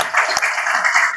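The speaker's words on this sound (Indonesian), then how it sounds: "Tepuk tangan dulu untuk ini Pak." Short burst of audience applause in a classroom-style teacher training session, a dense steady patter of clapping lasting about a second.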